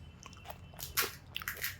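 Someone bites into crunchy fuchka (pani puri) close up, with a few sharp crisp cracks and crunches in quick succession over a quiet background, no talking.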